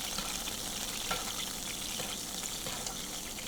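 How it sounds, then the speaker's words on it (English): Sea bass skin-side down in a non-stick pan, sizzling steadily as hot fat is spooned over its back, a continuous close, even frying hiss with small crackles and no talking. "Just going to take that fat and just pour it over the back of the fish."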